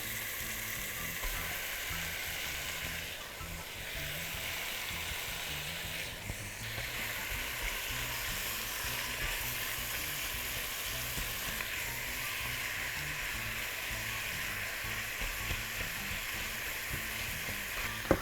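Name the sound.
meat frying in pan for bulgur pilaf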